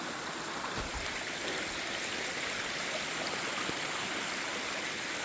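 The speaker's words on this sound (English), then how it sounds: "just more water is pouring off this mountain like" Rainwater pours off a mossy mountainside in a steady, broad rushing roar, like a nearby stream or cascade, continuous and fairly loud with no voices.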